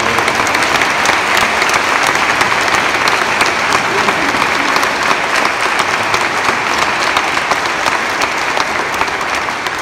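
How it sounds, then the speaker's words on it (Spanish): A church congregation at parish festivities gives a dense, steady round of applause, unbroken and loud for its whole length, with no voice above it. "También un aplauso."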